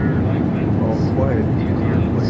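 Inside an airplane cabin before departure from Seattle, a steady loud low roar of engines and air fills the space, with voices murmuring underneath.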